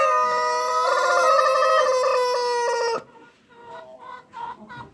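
Colombian Light Brahma hens on a hobby poultry farm give a loud, sustained call that cuts off sharply, then several quieter, broken clucks close by.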